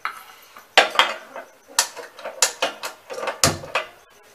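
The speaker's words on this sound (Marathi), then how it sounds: "बघा हे आपलं इडली पात्र, यामध्ये आपण ते पेस्ट भरतो आहे।" Metal idli plates, already oiled, clink and clatter as batter is filled into the cups: a run of about a dozen sharp metallic knocks and scrapes close by, in an uneven rhythm, with no talk.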